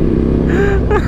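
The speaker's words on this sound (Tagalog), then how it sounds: "Maganda naman yung tunog ng motor ni Nick." A Ducati Nightshift motorcycle fitted with an ORION exhaust revs loudly close by, a brief rumbling engine roar rising in pitch.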